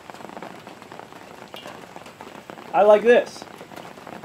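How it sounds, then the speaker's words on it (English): Rain falling outdoors in Ohio, a soft continuous patter of drops at low level throughout, with a person briefly speaking over it near the middle. "Oh, here comes the rain."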